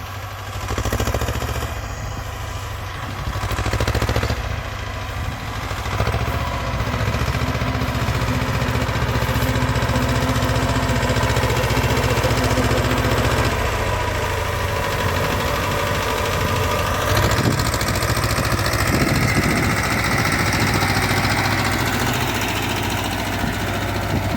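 A T-25 tractor engine runs loud and steady while ploughing stubble, with the wheels slipping under load. It drones close up for the whole stretch, with a slight shift in pitch partway through and no talking.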